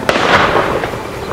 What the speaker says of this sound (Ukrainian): вихід на сцену мисливця, що зробив два постріли